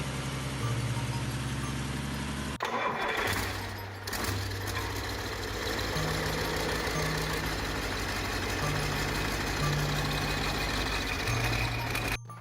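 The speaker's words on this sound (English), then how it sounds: "When the Curtiss Wright R2600 lights off, you can smell World War II in the sound right away." A Curtiss Wright R2600 wartime aircraft radial engine runs loud and steady after a brief quieter stretch, with a rough, throbbing drone and shifting low hum throughout.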